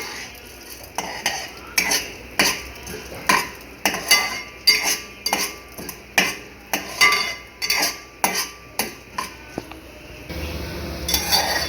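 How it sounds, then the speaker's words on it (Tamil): Two kinds of dal, including urad dal, dry-roasting in a pan over a medium flame for a mint-tomato chutney, with a spoon scraping and clinking in a steady rhythm of close strokes that stop near the end. "இந்த ரெண்டு பருப்பு மட்டும் நம்ம மீடியம் ஃப்ளேமில் வச்சு இதை மைல்டாக ரோஸ்ட் பண்ணிக்கலாம்"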